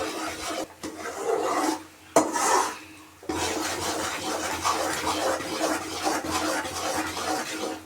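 Continuous scraping and stirring of a bubbling Mysore pak mixture in a pan with oil, a steady close rasping rub with a couple of brief pauses.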